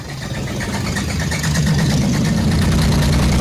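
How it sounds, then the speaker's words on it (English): A loud engine with two worn rod bearings idles and runs steadily with a rough, knocking rumble, getting slightly louder partway through, with no voices. "Those noises you heard, part of that was because it had two wasted rod bearings"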